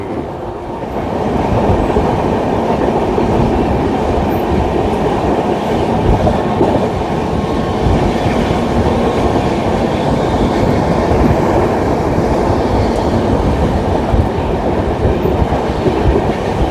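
Long Jharkhand Sampark Kranti express train rolling around a curve, a steady loud rumble of wagons with continuous clickety-clack of wheels over rail joints and faint wheel squeal, no voices.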